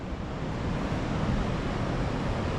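Indian Ocean surf off Wilderness on South Africa's Garden Route makes a steady, dense roar of breaking waves mixed with wind rush, continuous and fairly distant, with no voices.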